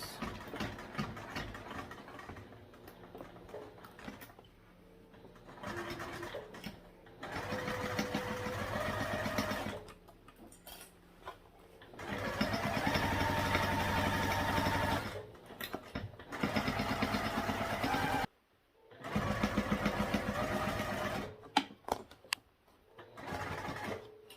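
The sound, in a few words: sewing machine slowly stitching bulky ends of crossbody bag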